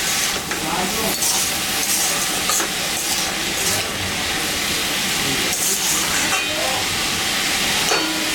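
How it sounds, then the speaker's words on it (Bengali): Bitter gourd and fish head chorchori with salt, turmeric and whole green chillies being stirred in a hot pan, a constant close sizzle and hiss broken by scraping strokes of the spatula. "নাড়াচাড়া করে এখন ঢাকা দেব।"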